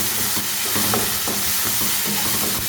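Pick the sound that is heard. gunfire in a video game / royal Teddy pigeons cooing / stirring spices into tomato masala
stirring spices into tomato masala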